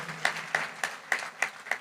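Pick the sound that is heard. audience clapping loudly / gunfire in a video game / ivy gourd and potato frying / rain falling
audience clapping loudly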